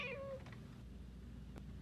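A pet cat gives a short, close meow, a single clear cry that fades into quiet room noise.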